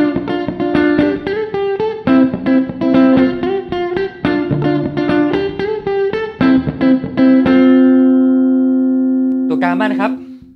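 Modern Flying V electric guitar played on a clean tone through the neck pickup: a fast run of bright picked notes and chords, ending on a long ringing chord that slowly decays, close and loud with no talk.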